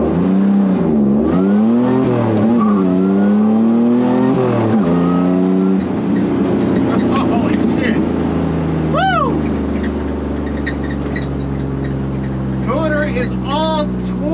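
A supercharged Pontiac Fiero race car launches, its engine revving loudly in rising sweeps before settling into a sustained roar with brief tire chirps, heard close up while people talk over it.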